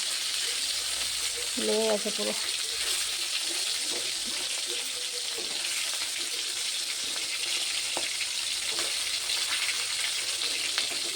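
Fish fries in a pan with a continuous bright sizzle and crackle, steady and close, while someone speaks briefly early on and faint kitchen clinks sound underneath.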